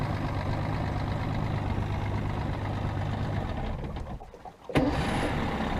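An outboard motor built before 1962 ticks over at idle, a steady close rumble with a continuous low throb running for several seconds, briefly dipping near the end before a sharp click and the running sound resumes.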